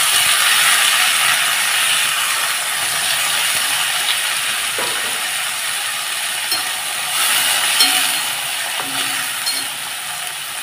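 Onion and tomato go into a hot pan of garlic and curry leaves, giving a loud, steady sizzling hiss with faint scraping clicks throughout.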